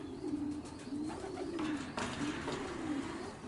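Racing pigeons cooing inside a breeding loft, soft repeated throaty coos rolling one after another over a constant background hiss, fairly close and without speech.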